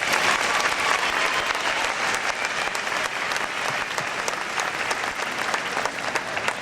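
A crowd claps steadily for faculty at a 2001 senior high school graduation ceremony, a dense, even wash of applause holding for several seconds.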